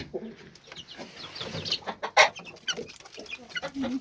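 Several hens and chicks cluck and peep close by in quick irregular bursts while eating chick feed, one louder squawk in the middle, with soft pecking sounds around them.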